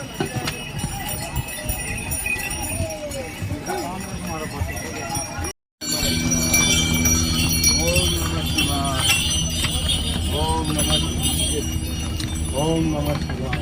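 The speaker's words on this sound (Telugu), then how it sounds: "ఇది మనుషులు పోవడానికి రోడ్డు కాదు, గుర్రాలు పోవడానికి రోడ్డు." Horses clop along a steep mountain trekking trail to Kedarnath, their hooves and jingling harness bells sounding steadily beneath continuous nearby talking and a busy outdoor murmur, with a brief cut midway.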